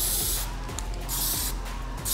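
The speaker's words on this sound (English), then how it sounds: "Cut it into the shapes you want, hold it where you want it, and then spray on pattern." Spray paint hissing from an aerosol can onto a rifle through a cut cardstock stencil, three loud bursts of spray separated by short pauses, close up.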